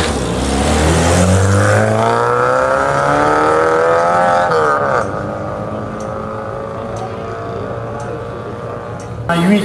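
A 1989 Peugeot 205 XS race car accelerates loudly up a historic hillclimb course, its engine note climbing through the gears before easing off, with a commentator talking over it throughout.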